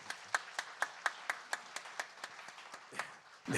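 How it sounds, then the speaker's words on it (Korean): A church congregation gives a short round of blessing applause, heard as distinct evenly spaced claps rather than a dense roar, fairly quiet and fading before a noise at the end. "우리 축복의 박수 하도록 하겠습니다."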